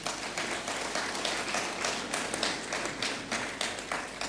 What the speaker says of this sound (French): nous pouvons applaudir le Portugal